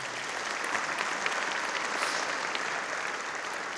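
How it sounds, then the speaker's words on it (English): Steady, dense applause fills a large hall at a county community address, a broad wash of many hands clapping at a distance without a break, moderately quiet overall. "you can clap."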